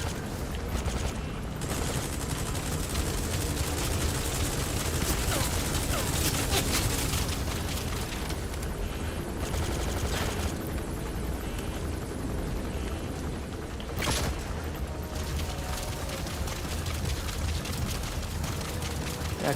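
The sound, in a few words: gunfire from a gun in a video game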